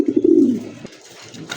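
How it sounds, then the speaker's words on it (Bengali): A large white German Beauty pigeon, a hen, gives a short, close, throaty coo that fades after about half a second, followed by quieter soft rustling, with no talking. "বিশাল সাইজের জার্মান বিউটি মা কবুতর, হোয়াইট কালার মধ্যে"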